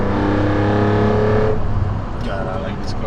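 A BMW with an S54 engine revs and accelerates loudly in night traffic for about a second and a half, its strong droning tone then dropping away into quieter road noise.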